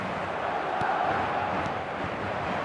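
A steady, dense roar of a packed stadium crowd in the eFootball 2026 football game rumbles continuously at an even level, with no standout cheers or chants.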